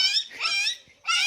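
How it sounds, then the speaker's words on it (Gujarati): A dog's high-pitched whimpering cries, two drawn-out whines with a brief pause between, fairly close and clear with no talking. "કૂતરું તો આવી જાય."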